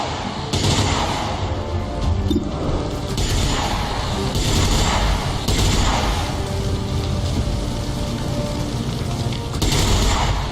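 Rapid volleys of gunfire and heavy booms from the turn-based strategy game XCOM 2, dense and loud throughout with repeated bursts and explosive impacts.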